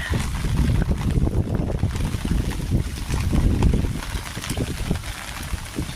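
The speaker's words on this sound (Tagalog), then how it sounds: "Yan ang lakas talaga ng ulan. Mahangin pa." Heavy rain roaring steadily with gusting wind buffeting the microphone, a dense continuous wash with no voices.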